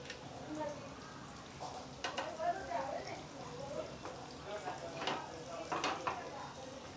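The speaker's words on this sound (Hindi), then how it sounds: "सभी को पैन में डाल दी हूँ। ये फ्राई हो रहे हैं" Minced meat seekh kebabs fry in a pan on medium heat with a soft, continuous sizzle, quiet and close, punctuated by a few light clinks and stirring sounds, under a voice talking.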